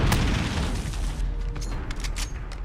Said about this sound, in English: I killed him with a grenade.